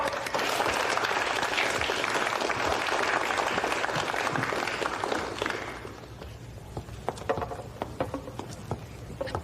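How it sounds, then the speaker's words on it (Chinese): An audience gives steady, full applause that tapers off after about six seconds into scattered claps and quieter room noise. "大家掌声欢迎"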